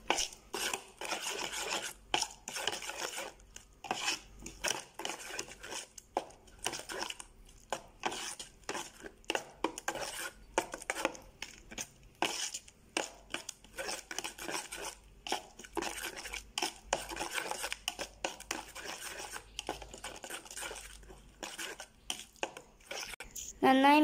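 A spoon stirs seasoning in a pan for macaroni, making quick, repeated scraping and rasping strokes that are close and busy, with short pauses between bursts.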